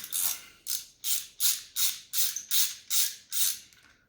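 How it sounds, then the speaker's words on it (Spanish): A T25 socket ratchet loosens screws on a CF Moto MT 450 motorcycle, giving eight steady, evenly spaced rasping clicks up close, each a bright burst with short gaps, fading slightly at the end. "yo voy a ocupar un dado T25. Vamos a retirar los tornillos"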